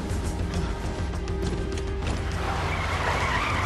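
An ambulance skids in the horror video game The Evil Within, its tires squealing against a loud, rumbling engine and gritty scraping noise that grows harsher toward the end.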